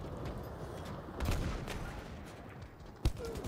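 Battlefield V combat: a steady rattle of distant automatic fire and muffled battle noise, with a slightly louder burst midway and one sharp close shot near the end.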